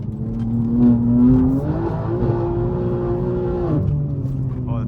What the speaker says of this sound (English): the tires make such a weird noise